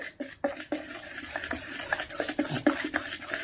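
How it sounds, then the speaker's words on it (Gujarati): A spoon scrapes and clinks against a bowl in quick irregular strokes, mixing thick dhokla batter, close up with no voices. "ચમચાથી મિક્સ કરી લેશું."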